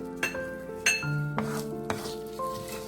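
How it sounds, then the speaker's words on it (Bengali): Whole spices go into hot butter in a pan: a bay leaf, whole garam masala, dry chillies and cumin. Three or four sharp clinks of utensil on cookware ring out over a faint, steady sizzle. "বাটারটা বেশ ভালোই গরম হয়ে গেছে এবার এর মধ্যে আমি একটা তেজপাতা গোটা গরম মশলা শুকনো লঙ্কা আর জিরে ফোড়ন দিয়ে দিচ্ছি"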